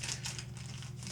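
A plastic resealable bag crinkled and handled while a model kit part for a Rye Field M1A2 Abrams tank is taken out, a brief soft rustle close by.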